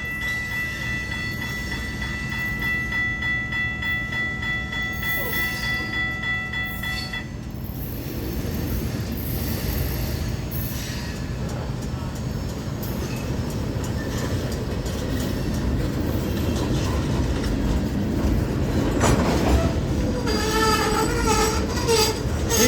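A Florida East Coast freight train rolls past a crossing in St. Augustine, Florida, a loud continuous rumble of wheels and cars with wheel squeal and a horn-like tone rising near the end.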